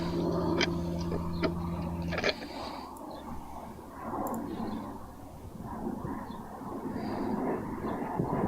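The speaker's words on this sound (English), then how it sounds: "I can hear that white plane" An airplane passes overhead in the sky above Christchurch, New Zealand, a broad, distant rumbling roar that swells and fades over several seconds outdoors after a few clicks.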